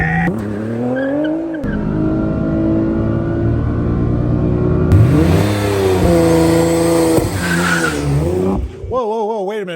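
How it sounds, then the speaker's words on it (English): A Nissan GT-R (R35) on cheap tires launches hard with its tires spinning. The engine revs loudly and climbs in pitch through several gear pulls, with squealing tires, wind roar and a brief voice near the end. "Was that front tire spinning on that launch?"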